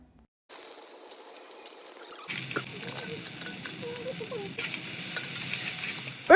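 Chopped tomato and green chilli hit hot oil and ghee in a miniature kitchen pan. Silence gives way to a soft sizzle, which swells into louder crackling frying with stirring scrapes.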